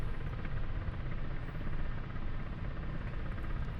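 A helicopter in flight drones loudly and steadily from inside the cabin, a thick rotor-and-engine roar with a fast, even beat and no talk over it.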